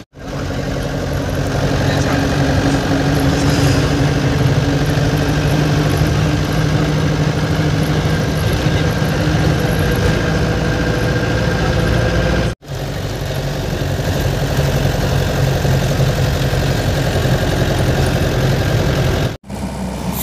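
A van's engine runs steadily, heard from inside the vehicle as a continuous loud rumbling drone with road noise, interrupted only by two brief cuts.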